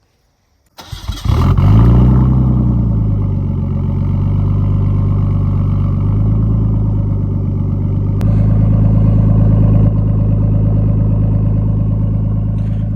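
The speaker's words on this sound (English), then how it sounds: "Let's get this Skyline started up." A Nissan Skyline GTS-T with a Tomei catback exhaust and decat test pipe cranks briefly and fires up loud, the revs flaring then settling into a strong, steady idle close by, with a slight blip later.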